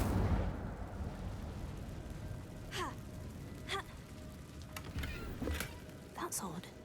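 An Incendio fire spell is cast in the video game Hogwarts Legacy, giving several sharp, sweeping whooshing bursts spaced a second or so apart over a quieter ambient background.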